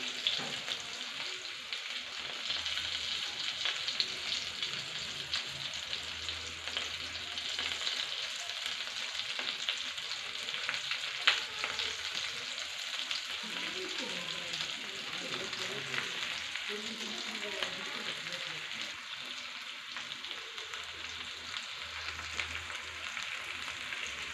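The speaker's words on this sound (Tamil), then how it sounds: "நம்ம ஆயில் ஹீட் ஆனோன்னா நம்ம ஸ்டஃப் பண்ணி வச்ச வெண்டைக்காய் எல்லாத்தையும் போட்டு ஃப்ரை பண்ணிக்கலாம்" Stuffed okra (vendaikkai) frying in hot oil in a pan gives a continuous, even sizzle at moderate distance, with soft crackles and a few faint clatters running through, no voice.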